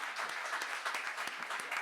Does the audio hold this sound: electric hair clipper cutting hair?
no